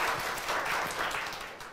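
Audience applause at a special lecture, a dense steady patter of many hands clapping that holds at an even level for the whole stretch and tapers slightly at the end.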